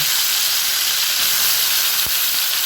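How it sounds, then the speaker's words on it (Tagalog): Chicken sears in a hot pan for adobo, a steady loud sizzle and hiss filling the whole moment with a brief clink near the end and no talk. "Iprito nyo siya ng bahagya."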